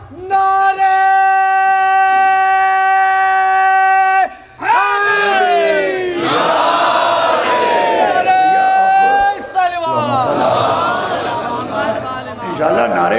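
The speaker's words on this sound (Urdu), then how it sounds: "پوری قوت کے ساتھ دونوں ہاتھوں کو بلند کر کے پوری طاقت سے پورے جوش میں زور سے کھل کے یا علی مدد حق نعرے" A crowd at a Shia majlis gathering in Lucknow chants the slogan Ya Ali Madad, loud and forceful. A long, sustained call gives way to surging massed voices and shouts.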